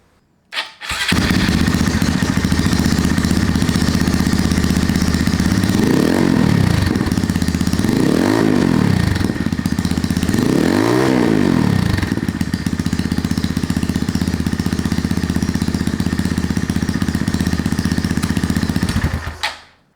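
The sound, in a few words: mini motorcycle exhaust without silencer revving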